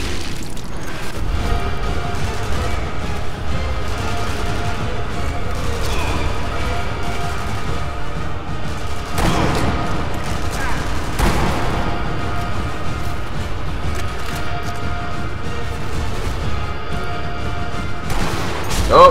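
Gunfire in the video game Sniper Elite V2, with loud, sustained booming shots and explosions over a constant noisy battle bed, several sharper sniper rifle cracks standing out.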